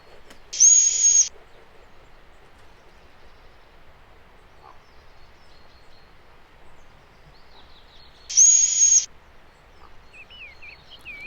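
Female Eurasian pygmy owl giving her special call announcing arrival at the nest hole to her young, two loud clear whistled notes about eight seconds apart over quiet background, with faint small bird calls.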